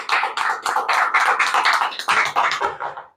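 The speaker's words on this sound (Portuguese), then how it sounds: "Palmas para Jesus, bem forte" A church congregation claps hard for Jesus in a burst of rapid, uneven applause that rises and falls over a few seconds, close and loud, with no voices.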